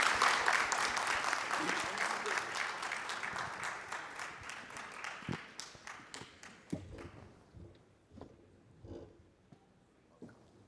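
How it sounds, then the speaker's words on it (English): Audience applause greets two presidential candidates at a medical association election debate, strong dense clapping that gradually thins into scattered individual claps and thumps as it dies away, with faint talk near the end. "Please give them a round of applause."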